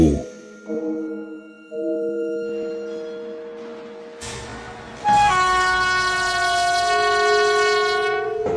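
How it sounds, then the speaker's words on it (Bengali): A train sounds a long, loud horn chord, then a second brighter blast over a rumbling engine and the clatter of the wheels. "ট্রেন কুচিকচিক শব্দ করতে করতে নিজের গতি বাড়ায়।"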